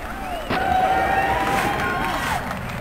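Crowd noise in the video game Tony Hawk's Pro Skater (1999 PlayStation prototype), a continuous roar of cheering and babble with a brief sharp impact and some tonal effects over it.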